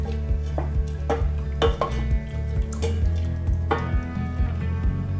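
Metal spoon scraping and clinking against a cooking pot as curry is stirred with added water and oil on the stove, a series of sharp knocks and scrapes with soft liquid sloshing, close and fairly loud.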